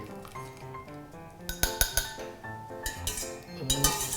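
Butterfly pea flowers being scooped out of their steeping water, heard as close, bright clinks of a utensil against a glass or pot, a few sharp knocks in quick succession with faint rattling between them.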